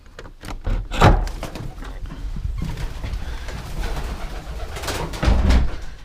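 White homing pigeons in a loft cooing softly and close by, with a wing flutter and a clatter early on and steady low coos throughout.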